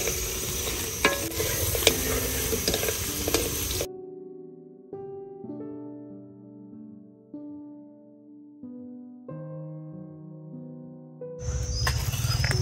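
Eggs fry in a hot oiled pan for a Vietnamese country-style spring roll, giving a dense, loud sizzle with stirring at the start and end, broken by a quieter stretch of steady tones in between.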